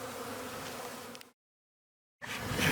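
Honeybees hum at an apiary hive in spring, a dense, close drone that cuts out abruptly for about a second before returning.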